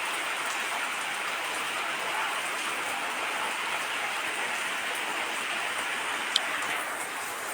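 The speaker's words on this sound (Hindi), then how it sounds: "लेकिन अब कीचड़ तो नहीं है, लेकिन बारिश हो रही" Steady rainy-season rain pours without a break, a dense even hiss of falling water with one sharp tick near the end and no voices.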